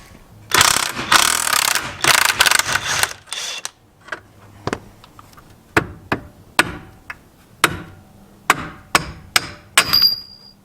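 A ratchet wrench working on the control arm bolts of a BMW E36, opening with bursts of rapid ratcheting clicks followed by a series of sharp, spaced metallic clacks and knocks, close and loud.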